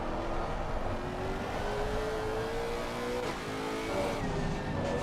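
Race car engine in a sim racing game at Spa, a TC-off car, droning loudly and steadily with rising, shifting engine tones as it accelerates through gears, alone without talk.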